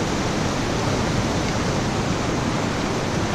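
Creek water rushing along a hiking trail at Deep Creek, a loud, dense and steady wash of flowing water with no breaks, close by and alone, with no voices.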